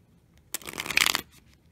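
A short riffle of playing cards being shuffled, a quick crisp flutter lasting under a second, close up and alone.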